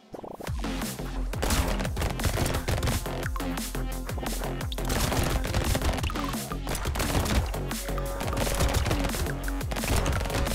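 Laser pistol shots in a video game ring out in a rapid, loud barrage of sharp repeated blasts over a busy game soundtrack, with no talk.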